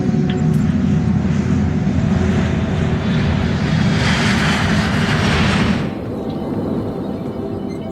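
Alaska Air Flight 261, a crippled airliner with a jammed stabilizer flown manually at 32,000 feet, gives a loud, steady engine drone and rushing roar that swells, then drops off sharply near the end to a quieter hum.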